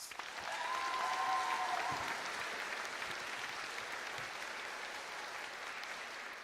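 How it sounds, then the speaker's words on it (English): Steady applause fills a graduation ceremony hall, many hands clapping in an even, sustained roar with a faint tonal hum briefly underneath, holding at a constant level throughout. "Let's give them one more round of applause."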